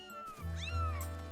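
A cat-like creature in The Legend of Zelda: Skyward Sword HD meows, a single drawn-out, rising and falling cry over a low steady game background hum, close and clear with no talking.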